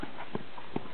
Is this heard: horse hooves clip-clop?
yes